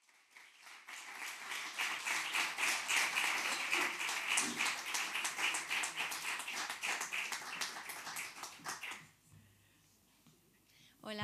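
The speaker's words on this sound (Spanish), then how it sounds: "Les invitamos a recibir con un fuerte aplauso a Doña Aurora Iturbide" Sustained applause from a crowd, dense steady clapping for about nine seconds before it fades out, leaving a quiet room.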